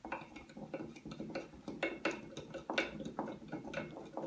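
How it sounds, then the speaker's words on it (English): A spoon stirs a homemade mead mixture in a container, making a quick run of soft clinks and scrapes with a light, irregular rhythm, close and fairly quiet. "Let's give that a quick stir."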